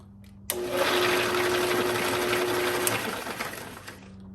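A drill press set to its slowest belt speed starts abruptly and runs with a steady, loud whirring hum close by, then winds down near the end, with no talking.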